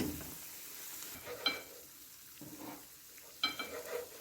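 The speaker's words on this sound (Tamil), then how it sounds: "இதை நல்லா டிப் பண்ணி இது போல் நல்லா கோட் பண்ணி இதை தூக்கி எண்ணெயில் போட்டுடலாம்." Chilli bajji coated in batter with dried fenugreek leaves frying in hot oil, a steady close sizzle with sharper crackling bursts as pieces are dropped in or stirred, and no talk.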